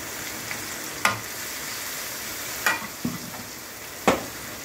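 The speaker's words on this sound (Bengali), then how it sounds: "এখন পেঁয়াজ ফ্রাই করছি" Onion and garlic paste fries in a pan for a fish dish, a soft sizzle underneath with a few sharp scraping stirs of the spatula at irregular intervals.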